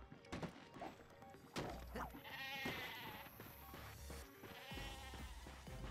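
A goat bleats in a quavering, drawn-out cry in Ratchet & Clank (2016), repeated over several seconds amid game sound effects and a few sharp thumps.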